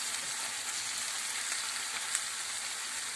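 Onions fry in a pan with a dense, even, close-up sizzle that holds steady throughout and has no speech over it.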